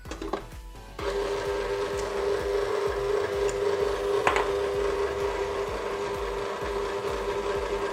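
A mixing machine kneads spéculoos dough with flour, a loud, steady mechanical whir with a constant hum and a scraping grind that starts abruptly after a short lead-in and carries on without pause.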